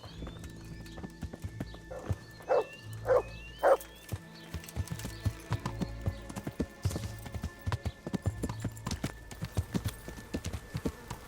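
Horse hooves clip-clop steadily on the ground in the medieval game Kingdom Come: Deliverance, close and rhythmic, with a dog barking a few times early on and a horse whinnying.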